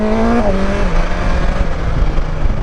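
A 2020 BMW S1000XR motorcycle engine drops in pitch as the auto-blipper downshifts, a loud, close, steady engine drone sliding lower, with no talking.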